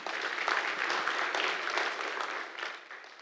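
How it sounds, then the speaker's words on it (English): Conference audience applauding at FinSec 2024, the Financial Security Conclave, a dense sustained clatter of many hands clapping that stays fairly loud and tapers slightly toward the end. "Can we have the loudest round of applause"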